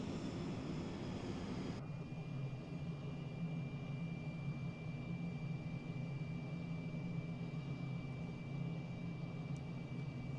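A simulated F-35 jet in Microsoft Flight Simulator 2020 sets down in a vertical landing, a steady faint engine roar with a whine that shifts sharply near the start, then holds evenly.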